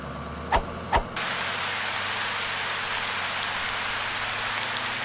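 Steady rain pours down in a kids' cartoon about cars and trucks, a continuous hiss of falling drops that begins after two short knocks and carries on evenly at moderate level.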